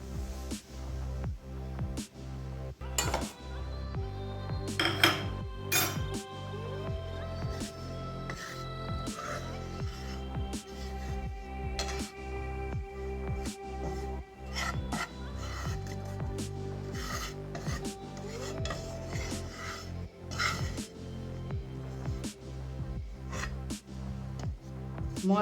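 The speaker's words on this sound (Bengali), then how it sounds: "ময়দাটা একটু লো ফ্লেমে নেড়ে নেওয়ার" Flour stirred with a spoon in a pan over a low flame for white sauce pasta, a steady close scraping and rasping that runs continuously with irregular sharper scrapes.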